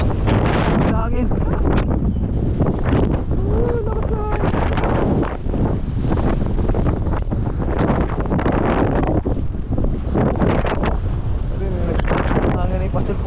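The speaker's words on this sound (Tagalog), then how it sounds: "Hangin ay pasulput-sulput eh." Strong, gusty wind roars across the microphone throughout, loud and buffeting, with people talking underneath.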